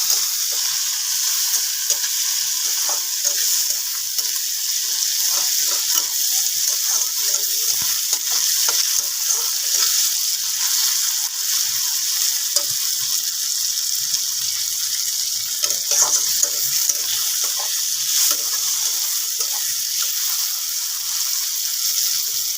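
Tomatoes sauté in a pan with onions for a Bengali tilapia fish chorchori, a steady close sizzling hiss with occasional stirring scrapes, no voices.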